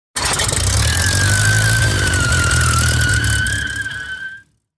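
A Piper Apache twin-engine plane roars as one engine is run up hard, with a sustained high tire squeal cutting across the steady low rumble for several seconds before everything cuts off abruptly.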